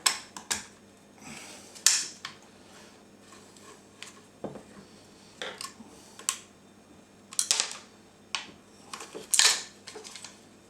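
Plastic clicks, creaks and scraping knocks come from a JURA coffee machine's brew group as it is turned upside down and twisted free, a string of irregular sharp clacks over a low steady hum.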